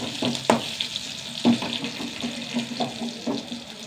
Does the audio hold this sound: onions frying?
yes